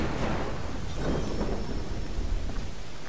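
A thunderstorm in Assassin's Creed III: a deep, rolling thunder rumble over a steady wash of rain, loud and continuous with no voices.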